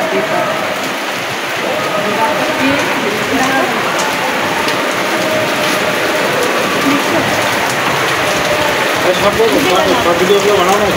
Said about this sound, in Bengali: দেখো কিরকমভাবে বৃষ্টি পড়ছে